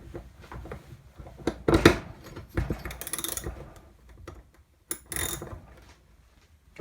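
Wrench working a bolt on a weed whacker during a teardown: scattered clicks, ratcheting and metallic knocks come in irregular bursts with quiet gaps, close by and fairly faint.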